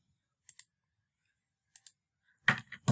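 Sparse clicks of keys being typed on a computer keyboard while entering a spreadsheet formula: two quick pairs of light taps with pauses between, then a slightly louder cluster at the end, all quiet and close.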